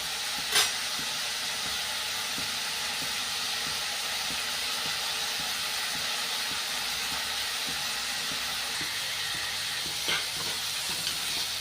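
Onions and ginger frying in a pan, a steady close sizzle and hiss that runs throughout, with a few faint clinks.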